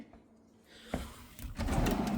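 Kitchen drawers in a modern kitchen sliding open and shut, a sharp knock near the middle followed by a denser run of rumbling slides and thuds toward the end, close by with no talk.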